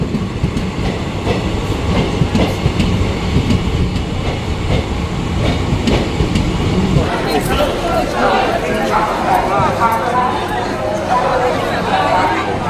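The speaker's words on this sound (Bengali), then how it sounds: "আমাদের ট্রেন চলে এসেছে আমরা এবার চাপবো" A passenger train pulls in and runs along the rails with a loud rumble and clattering wheels, while a crowd chatters on a busy station platform.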